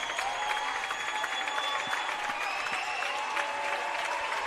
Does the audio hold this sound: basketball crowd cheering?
yes